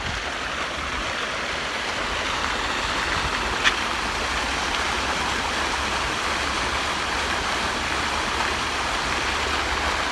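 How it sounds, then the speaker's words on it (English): Fountains in France splash and rush in a steady, broadband wash of falling water that stays continuous and fairly loud throughout, with one brief sharp click partway through. "we're just by the fountains, which I'm sure you can hear just behind me"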